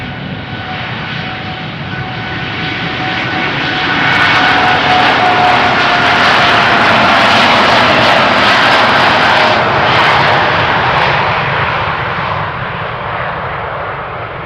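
Jet airliner engines roar on the runway at Amsterdam Schiphol Airport, a loud sustained rumble that swells to a peak midway and slowly eases, with no voices over it.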